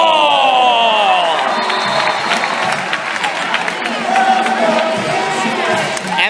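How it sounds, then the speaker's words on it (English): A crowd at a Florida Gators volleyball match cheers and shouts loudly, with whistles and applause mixing into a steady roar that fills the arena. "And the cheering comes around."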